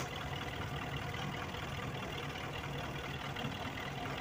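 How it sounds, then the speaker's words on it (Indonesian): The engine of a Mitsubishi Colt T120 van idles while air blows hard from its exhaust, making a steady, loud, close rushing hiss with a low rumble underneath that never changes. "Ini bukan angin teman-teman, ini angin dari knalpot."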